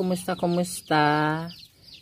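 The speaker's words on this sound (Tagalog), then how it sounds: "ayan ang aking gansa guys" A domestic goose sitting on a clutch of six eggs gives a few short honks followed by one long, loud, nasal call, all close by.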